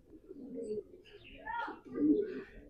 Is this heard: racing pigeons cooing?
yes